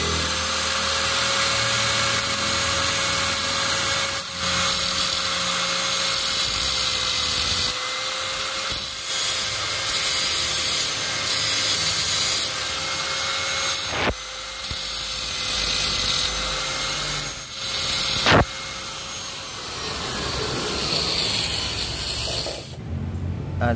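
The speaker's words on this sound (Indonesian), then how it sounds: "Sekarang kita gerinda saja dulu." An angle grinder works down a motorcycle magnet, a continuous loud high-pitched whine with brief cuts and restarts as the tool is lifted off and pressed back on the metal.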